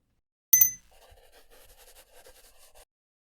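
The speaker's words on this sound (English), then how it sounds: "All I could find were these little bells in the music hall, though." Small bells ring in the video game Angel Wings: Endless Summer: one bright, sharp chime, then faint, soft tinkling that trails off over the next couple of seconds.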